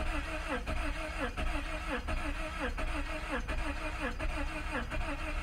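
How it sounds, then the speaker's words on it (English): A 2004 Honda Accord that cranks but won't start, engine turning over in a steady rhythmic chug with an uneven popping beat, recorded close and continuous without speech. "I hear like one cylinder like popping almost."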